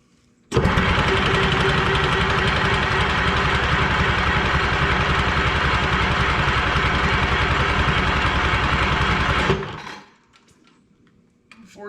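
A Detroit 353 diesel engine in a Lull telehandler cranks over steadily for about nine seconds, a loud continuous churning drone that cuts off abruptly, followed by near quiet.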